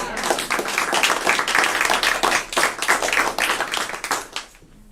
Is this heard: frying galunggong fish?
no